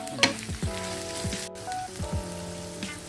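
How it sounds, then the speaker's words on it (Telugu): Capsicum pieces and onions sizzling in a hot pan while being stirred, a steady close frying crackle with soft scrapes of stirring throughout. "ఉల్లిపాయ వేగగానే క్యాప్సికం ముక్కలు వేసుకొని తిప్పుకొని"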